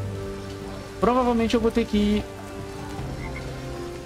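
Heavy rain pours in the game Drova - Forsaken Kin, a steady, dense hiss that continues throughout while a voice speaks over it.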